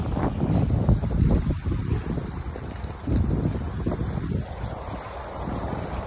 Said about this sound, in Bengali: তবে পানির একটা শব্দ, যে এই শব্দটা অনেক সুন্দর লাগে